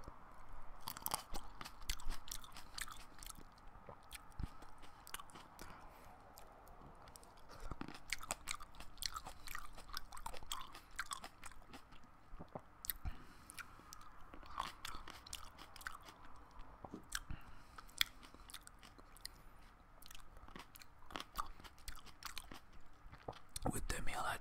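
Close, quiet crunching and biting of an assorted fruit bowl, repeated crisp bites and steady chewing throughout, with a voice speaking softly at times.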